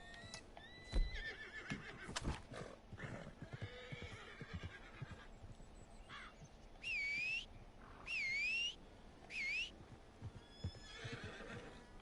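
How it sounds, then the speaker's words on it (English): Three loud, shrill horse whinnies in quick succession in Red Dead Online, after scattered rustling, clattering and a few brief chirps. "My fucking horse annoys me sometimes."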